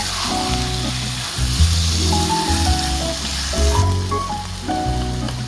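Onion and potato sizzle loudly in hot oil in a pan, with the onion near browned and oil separating at the edges, a constant close hiss with rhythmic low thumps of stirring for an egg curry.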